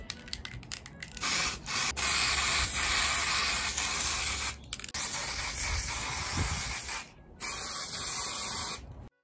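Hairspray hisses from a can onto hair in several long, close bursts, with short pauses between them.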